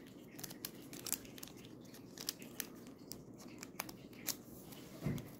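Scissors snip and crinkle through the foil top of a Pokémon card booster pack, with soft cuts and rustles close by and several sharper crunches near the end.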